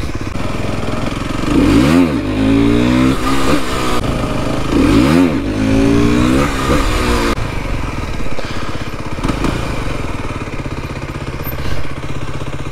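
A Fantic XMF motorcycle ridden hard, its engine revving up and down in two strong rising sweeps before settling into a rough, steady drone, loud and close throughout.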